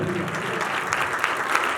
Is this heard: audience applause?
yes